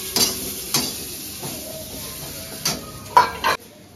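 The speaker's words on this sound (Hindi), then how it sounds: "इसमें सारे मसालों को अच्छे से फ्राई कर लेंगे" Whole onion, green chilli and spices frying in a pan for matar paneer gravy, a low steady sizzle with a few sharp clinks of a spoon against the pot.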